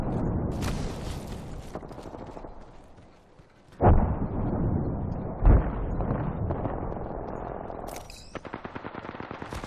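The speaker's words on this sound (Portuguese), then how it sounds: "Ó, tiro já, hein?" Gunfire in the video game Apex Legends: rapid automatic bursts and a couple of sharp, loud shot impacts ring out over a windy, rumbling game backdrop, with a harsher burst near the end.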